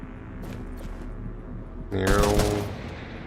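Gunfire in the video game Girls' Frontline 2, a loud burst of rapid shots arriving suddenly near the end after a quieter stretch of background game sound.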